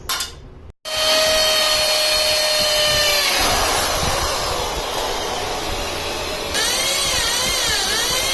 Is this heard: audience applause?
no